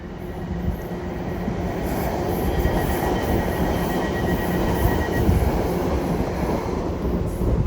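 A Class 720 electric multiple unit pulls away from Chelmsford station on the Great Eastern Main Line, a steady loud rumble of wheels and traction motors with faint high whines throughout.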